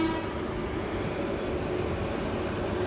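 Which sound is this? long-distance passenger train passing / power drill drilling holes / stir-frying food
long-distance passenger train passing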